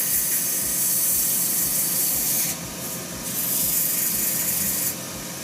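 Strong, steady hiss of 180-grit sandpaper against a spinning hybrid resin shaving brush handle on a wood lathe, rising and dipping slightly as pressure shifts, with a low rumble of the machine underneath and no voices.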